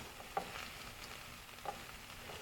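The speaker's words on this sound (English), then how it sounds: "You can tell my garlic's getting nice and brown. My butter's browning a little bit." Garlic and butter sizzle and brown in a pan for a hatch green chili sauce, a soft, steady frying hiss with a couple of faint pops, alone and quiet.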